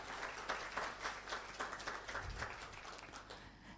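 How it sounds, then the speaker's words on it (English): Audience applause at the opening session of an international youth conference, a steady wash of clapping heard quietly and at a distance throughout. "Let's give them a round of applause."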